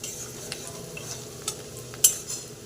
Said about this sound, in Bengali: পেঁয়াজটা আমি হালকা করে ভেজে নিয়েছি। এবার আমি এর মধ্যে দিয়ে দেবো হলুদ